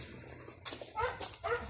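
A single dog gives two short, close barks with a whining, whimpering edge, separated by brief pauses against a quiet outdoor background.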